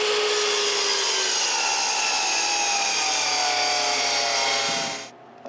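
A power saw makes an angled cut through wood, a loud sustained whine and rasp holding steady for several seconds before the blade spins down and cuts off abruptly near the end.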